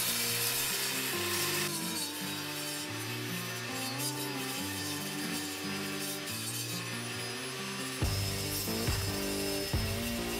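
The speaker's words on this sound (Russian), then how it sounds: "Завел пилу и напластал на нужные размеры." A power saw cuts 10 mm plywood to size in a workshop, a steady grinding, rasping drone with a wavering motor tone, loud and close, with a couple of sharper bumps near the end.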